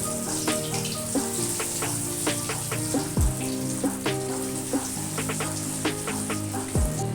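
Steady hiss of cutlets frying in hot oil, with scattered pops and crackles and a couple of heavier thuds, fairly close.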